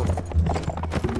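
Horse hooves clip-clopping at a gallop in the medieval battle game Mount and Blade: Warband, loud, close, rapid rhythmic hoofbeats with no talking over them.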